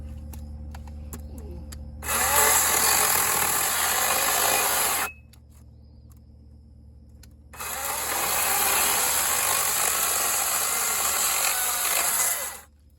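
Chainsaw with a sharp chain cutting through a dry, gray piece of firewood: two steady, loud, rasping cuts of about three and five seconds, separated by a quieter idle pause, with no talking.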